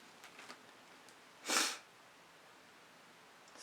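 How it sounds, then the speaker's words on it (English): One short, sharp nasal sniff close to the microphone, quick and breathy, followed by quiet room tone with a few faint soft rustles before and after. "Excuse my sniffling."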